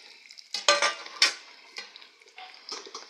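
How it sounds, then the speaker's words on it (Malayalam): Grated coconut and cashews sizzle and crackle in hot ghee, with a spoon stirring and scraping the pan in short, uneven bursts. "നമുക്കതിൽ തേങ്ങയും അണ്ടിപ്പരിപ്പും കൂടി ഇട്ട് വറുത്താം."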